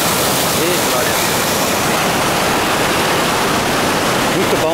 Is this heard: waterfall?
yes